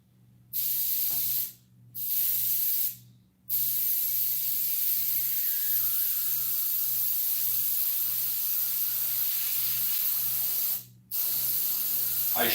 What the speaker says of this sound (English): I got to rinse out my airbrush a little bit